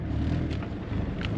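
Subaru STi on its first drive of the season, engine droning low and steady from inside the car with a faint rumble and a couple of brief higher noises, no talking.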